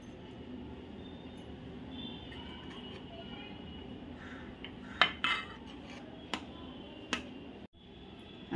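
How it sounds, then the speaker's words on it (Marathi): Coriander is added to buttermilk kadhi in a pot and stirred, giving a few sharp spoon-against-pot clinks over a steady low kitchen hum, with a short gap of silence near the end. "आता मी ही घालते कोथिंबीर."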